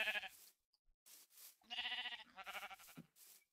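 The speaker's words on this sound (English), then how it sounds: "Sheep. Come here, sheep." Sheep in a Minecraft-style video game bleat several times in short, wavering calls, loud and close, separated by brief silences.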